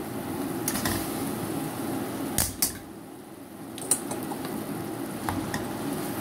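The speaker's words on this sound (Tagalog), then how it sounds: "Gisa lang natin." Banana blossom sautéed in a pan with a little vinegar: a steady, close sizzle runs throughout, broken by a few sharp scrapes and knocks of the spatula against the pan, with no voice.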